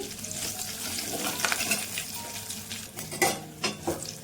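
Hot oil with spice tempering and asafoetida sizzles and crackles steadily while a metal spoon stirs and clinks against the pan a few times.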